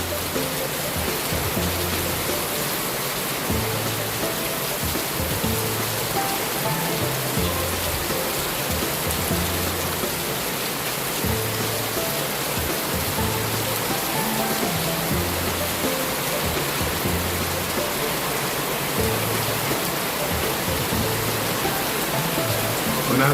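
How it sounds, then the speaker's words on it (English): Heavy rainy-season rain pours down steadily outdoors near a building, a dense continuous hiss of downpour with drumming on surfaces and no pauses. "This is real rainy season rain."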